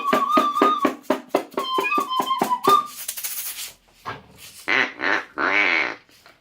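Children imitating birds singing in a classroom make a chaotic burst of high chirps, squeaks and whistles, first in quick rhythmic pulses, then a noisy rush and several louder overlapping blasts of vocal bird calls.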